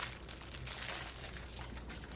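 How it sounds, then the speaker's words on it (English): Plastic packaging for silicone Christmas ornament molds crinkling close up, a steady, dense crackle of rustling and crumpling with no voices. "Apologies for the crinkling."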